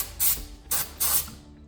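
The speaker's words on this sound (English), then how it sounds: "I'm just going to spray my cleaner right onto the valve" An aerosol can of carburetor cleaner sprays onto a PCV valve from a 2015-2016 Honda CR-V 2.4-liter engine in three short hissing bursts, the last slightly longer, close up over a low background hum.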